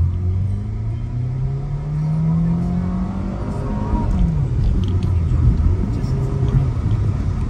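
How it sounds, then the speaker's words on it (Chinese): A Suzuki Grand Vitara SUV accelerates. Its engine tone rises steadily and then drops and settles into a rumbling drive, heard from inside the cabin with some faint voice underneath. "我们试试看它的加速啊"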